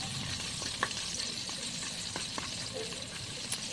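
Onion and garlic sauté in a pan for ginisang sayote, a steady soft sizzle with occasional clinks and scrapes of stirring, close and fairly quiet.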